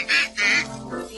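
Two loud nasal quacks in quick succession, then a fainter third, as a voice imitates a duck during the Old MacDonald song.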